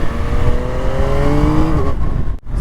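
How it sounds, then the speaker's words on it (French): Loud three-cylinder CP3 engine of a Yamaha XSR 900 motorcycle revving up, with rising harmonic whine held for nearly two seconds before cutting off sharply near the end. "maintenant on est sur la XSR 900 de chez Yamaha. Donc un joli 3 cylindres."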